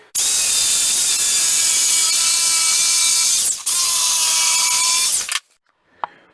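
Jigsaw cutting a notch in a board, a loud, close, continuous whining buzz lasting several seconds, then a brief pause, a second short run, and a single faint knock after the blade stops.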